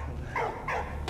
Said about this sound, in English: What are you barking at, bud?